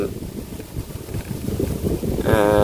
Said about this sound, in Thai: ลมอีกแล้ว